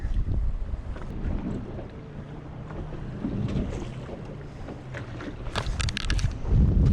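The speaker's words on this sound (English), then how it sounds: "like 20-mile-an-hour west winds on a cold front" Strong 20-mile-an-hour west wind on a cold front buffeting the microphone out on open water, a constant rough rumble and gusting roar with faint splashes and knocks from a boat.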